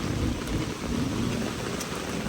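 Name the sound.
heavy rain during mountain hike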